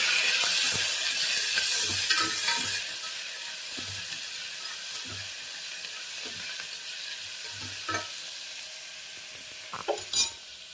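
Onion and tomato sambar mixture frying in a pan, with a soft steady sizzle and occasional low clinks of stirring, a few sharper utensil taps near the end.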